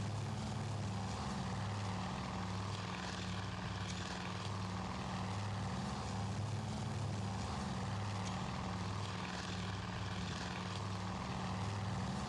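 World War II aircraft engines roaring in the naval strategy game Task Force Admiral, a constant dense propeller drone with pulsing low tones, steady and loud throughout with no voices.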